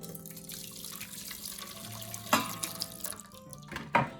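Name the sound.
pouring dirty water into a bowl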